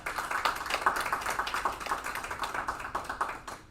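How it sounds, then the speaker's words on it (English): A crowd at a school district board meeting applauds with steady, dense clapping that continues throughout, fairly loud and close, without voices. "So let's give them a round of applause."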